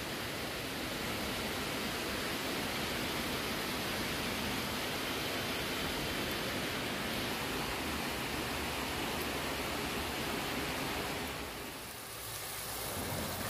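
Chicken is stir-fried in a pan, slowly cooked down for a Chinese vegetable dish, giving a steady, loud, close sizzling hiss that dips briefly near the end, with no one talking.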